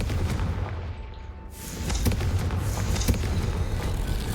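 A Confringo fire spell bursts in Hogwarts Legacy, a loud whooshing blast that swells after a brief lull and keeps crackling with sharp pops and rumbling fire over steady game noise.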